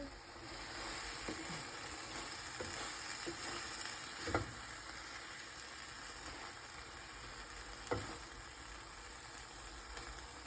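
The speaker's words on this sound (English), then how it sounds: "we're just going to let it simmer and cook through a little bit longer till all the cheese is melted" A cheese-filled dish simmers and sizzles steadily in a pan, a soft continuous frying hiss close by, broken by a few faint clicks and scrapes and no talk.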